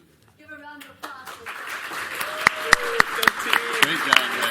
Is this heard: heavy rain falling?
no